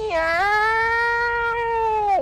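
A voice imitates a cat's meow, drawing out one long, loud, wavering cry that rises at the start and drops off sharply at the end.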